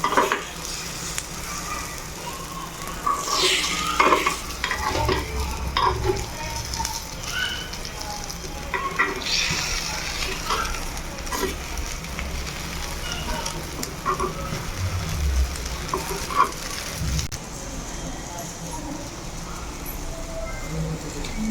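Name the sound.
egg kuzhi paniyaram frying and sizzling in a pan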